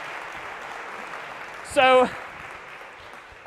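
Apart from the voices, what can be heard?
audience applause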